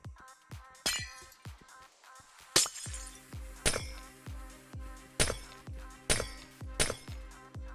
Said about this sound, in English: Breaking glass, everyone's favorite sound in Minecraft.